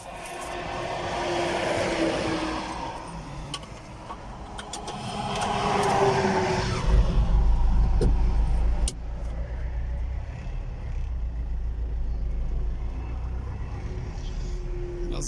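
A Hino light truck creeps forward at a busy vehicle inspection station. A low engine rumble swells and eases as it pulls up, over echoing background noise, with occasional clunks and a brief heavier surge midway.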